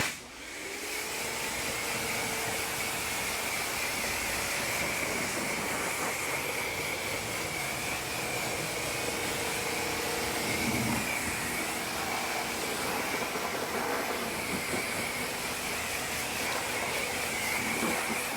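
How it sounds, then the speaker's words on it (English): A water hose rinses dirt off a car's engine bay, producing a steady, loud spray hiss that starts abruptly and holds continuously for nearly twenty seconds, with no talking. "I'm just rinsing off the dirt in a very safe manner."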